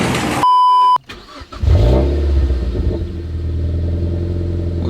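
A Mazda MX5 with freshly changed spark plugs cranks and fires up after a steady in-car chime. The engine catches within about a second, and the close idle then rumbles low and settles into an even hum.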